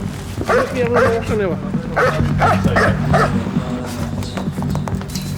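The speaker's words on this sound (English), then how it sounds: "It's time to let loose the hounds." Police dogs bark in several rapid, loud bursts close by, mixed with yips and whimpers, while people talk over them.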